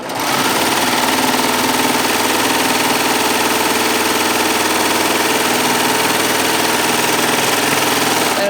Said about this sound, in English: put our fabric underneath there, and we're going to start to sew